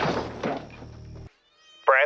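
Family cat in the 1986 creature film Critters gives a short, clear meow near the end, after a brief silent gap that follows a stretch of rumbling movie soundtrack and a low voice.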